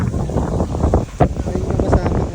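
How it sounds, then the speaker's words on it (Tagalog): Strong gusty wind from an approaching storm buffets the microphone during an island boat tour in El Nido, Palawan, a steady rumbling roar with bursts, while a voice talks over it. "Naiwan pa ng bagyo kaya lakas din ang hangin."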